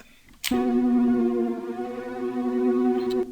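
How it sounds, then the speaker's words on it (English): A sustained new wave synth pad chord made in Serum swells in after a soft click and rings steadily with a washy reverb tail, no voices. "then I've gone for a bit of reverb in the synth."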